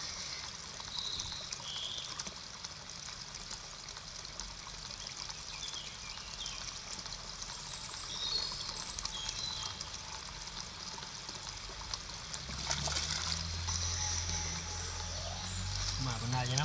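Water trickles steadily at a spring beside a river crossing on a trail run, a soft continuous flow with faint outdoor ambience and a louder splashing gush near the end.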